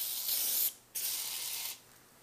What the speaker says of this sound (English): And as I'm spraying it